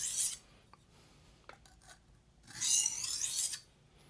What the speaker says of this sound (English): Either way is going to sharpen the knife.